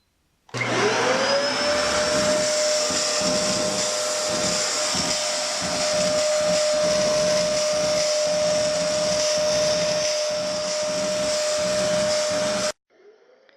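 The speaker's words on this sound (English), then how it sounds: "After turning the vacuum on, it was obvious that there was a rattling noise coming from it" A Dyson DC07 vacuum cleaner whirs up and runs loudly and steadily with a whining tone, a faint irregular rattling fault beneath it, then shuts off abruptly.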